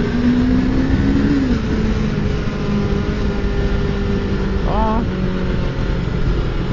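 A motorcycle engine revs and drops in pitch as the rider shifts gears on the road, a loud continuous drone close to the microphone with wind rush throughout and a quick rev blip near the end.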